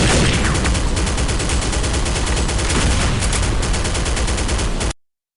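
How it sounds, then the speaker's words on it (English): Heavy machine gun fire in Counter-Strike: Condition Zero, a loud sustained rattling burst of rapid shots that stops abruptly into silence. "Like that scene where John McClane runs across the sky bridge under fire from heavy machine guns."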